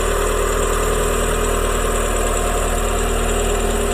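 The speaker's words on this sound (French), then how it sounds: "J'ai mis le moteur en route à l'instant." A Renault Twingo Initiale engine idles after reassembly with a steady, even mechanical drone and constant vibration, close and alone throughout.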